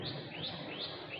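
Bird chirps come in a repeating series of bright rising calls, moderately near and steady, with no talk over them.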